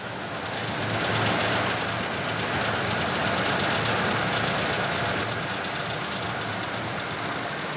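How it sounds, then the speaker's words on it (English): A boat engine labours on a river trip through the Gabon rainforest as it loses power, giving a loud, continuous rough drone with a knocking texture that holds steady throughout. "the engine loses power"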